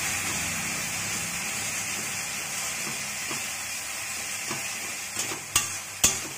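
Ground spice paste fries in a pan as a small splash of water goes in, giving a steady, fairly loud sizzle throughout with a few sharp utensil clinks toward the end.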